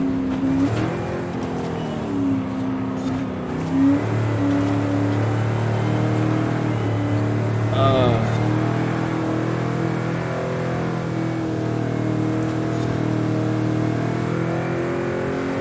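A 1970 Chevrolet Chevelle SS 454 with a Muncie 4-speed runs and revs steadily, a loud, close V8 drone holding pitch with brief swells, continuous throughout.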